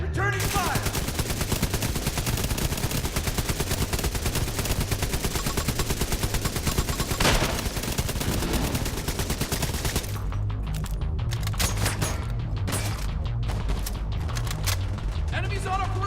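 Sustained automatic gunfire in The Division 2, dense rapid bursts for about ten seconds, then sparser shots and impacts, loud and close amid game combat noise.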